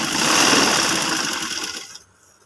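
A sewing machine runs steadily while stitching a men's side pocket on a garment, loud and continuous for about two seconds before cutting off into near silence.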